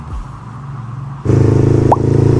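Motorbike engines hum on a busy road, recorded with an Ulanzi A100 wireless mic on a GoPro Hero 9; midway a louder engine pulls in close, droning steadily alongside the traffic.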